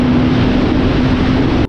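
A motorcycle engine runs loud and close at a steady, even drone as the rider sets off slowly, a constant hum with no talking over it.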